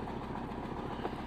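An old car engine runs while warming up, a low, rough, steady rumble with a slightly uneven throb, close by and fairly quiet, with no talking heard.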